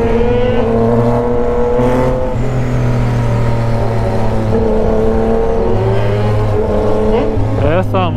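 Loud Yamaha Tracer 900 motorcycle engine revving and droning with rising and falling pitch, close by, with a voice briefly audible near the end.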